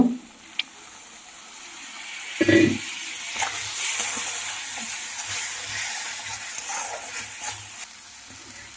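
Spice paste for a Katla fish curry frying in a pan, a steady soft sizzle with stirring scrapes and one louder clatter near the start, close and moderately quiet.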